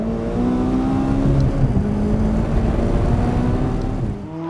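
A 2018 McLaren 570S Spider sports car pulls hard under acceleration, its engine note rising steadily through the gears, loud and close with no talk.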